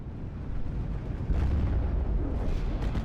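A Steel Division Normandy 44 artillery barrage rolls on as a dense, continuous rumble of overlapping booms and blasts, swelling louder partway through and holding heavy to the end, with no voices.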